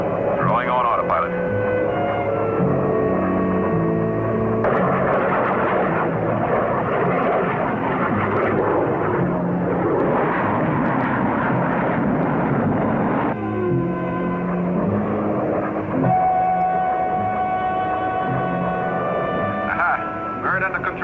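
A jet plane flying on autopilot hums steadily with a constant engine drone, mixed with radio-like chatter and voices talking over it.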